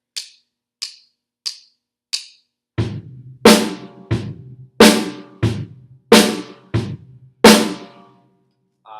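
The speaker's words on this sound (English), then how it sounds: "When you're playing a rock beat on the drum set," Drum set keeping a basic rock beat, with bass drum on beats one and three and snare on two and four, after four light count-in clicks. The hits are close and punchy and ring out steadily on their own.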